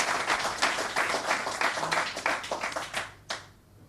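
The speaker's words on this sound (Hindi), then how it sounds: "तालियां बजा के उनका स्वागत कीजिए" Crowd at a BJP rally in Indore claps to welcome Kailash Vijayvargiya, a burst of uneven hand claps that thins out and fades to quiet near the end, with no talking.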